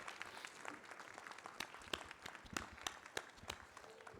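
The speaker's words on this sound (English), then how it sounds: "So the courtroom shall rise and give a big round of applause for our judges and the jury." A courtroom audience applauds the judges and jury. The clapping is faint and distant, with a brisk run of scattered claps rising a little in density before it tapers off.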